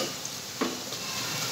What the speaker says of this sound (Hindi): अभी लाल ब्राउन किए हैं मैंने दो प्याज